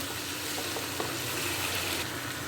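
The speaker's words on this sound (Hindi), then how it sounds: "मसाले को अच्छे से भून लेते हैं।" Masala with yogurt, black pepper and green chilli frying in a pan for white chickpea pulao, a continuous close sizzle with faint stirring scrapes and no voices.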